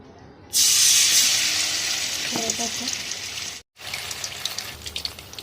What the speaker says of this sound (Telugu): కోడి లెగ్ పీస్ వేస్తున్నాను చూడండి